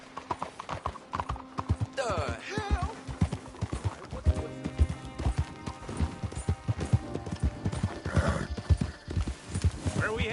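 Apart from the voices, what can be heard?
horse galloping in a video game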